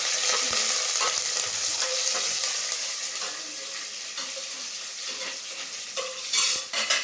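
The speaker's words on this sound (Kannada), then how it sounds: "ಮೆಣಸಿನ್ಕಾಯಿ ಹಾಕಿ ಸ್ವಲ್ಪ ಫ್ರೈ ಮಾಡ್ತೀವಿ." Green chillies fry in hot oil, throwing off a loud, dense, steady sizzle with occasional spoon scrapes and light clinks as they are stirred.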